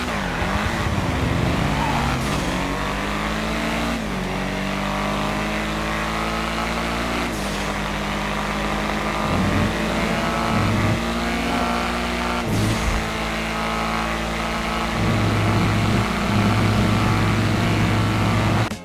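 The Obey 8F Drafter sports car in GTA Online revs and accelerates through repeated gear shifts, the engine pitch climbing and dropping in steady cycles with occasional tire squeal, loud and close.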